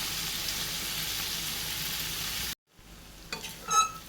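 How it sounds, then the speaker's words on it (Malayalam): Ivy gourd for pickle sautés in a pan over a low flame, giving a steady soft sizzle and frying hiss for a couple of seconds before it drops away, followed by a few light clatters. "ഇത് നമുക്കിങ്ങനെ കുറച്ച് സമയം ലോ ഫ്ലെയിമിൽ വെച്ചിട്ട് ഇതൊന്ന് വഴറ്റിയെടുക്കണം."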